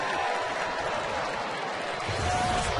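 Baseball crowd at a stadium cheering and applauding in a continuous dense wash of noise, fairly distant and even across the short stretch.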